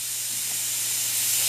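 Compressed air hisses steadily into a small model radial engine machined from bar stock, a loud, close, continuous broadband rush with no talk.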